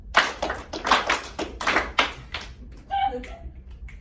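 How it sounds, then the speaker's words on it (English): A group claps in a steady, fast rhythm, loud and close, with a brief voice joining near the end. "can you clap with that group and I'll clap with this group?"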